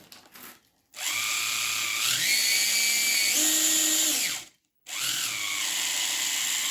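A small Fly slot car motor whirs loudly with a gear whine, rising in pitch as it speeds up, cutting out abruptly, then starting again.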